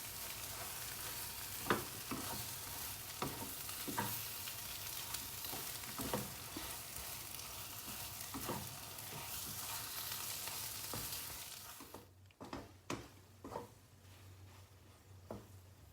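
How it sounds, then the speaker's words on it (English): Lady's finger with dried shrimp and chilli stir-fried in a pan: a continuous close sizzle broken by repeated scraping stir strokes, then the sizzle drops away and only scattered clinks and stirs remain. "add the lady's finger inside and stir fry about 2 minutes."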